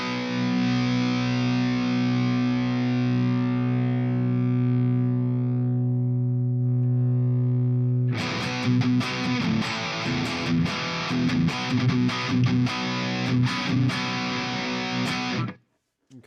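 Electric guitar played through an MX distortion pedal into an already high-gain Headrush amp model: a sustained saturated chord rings out for about eight seconds, then gives way to a dense, aggressive run of chugging palm-muted riffing until an abrupt stop.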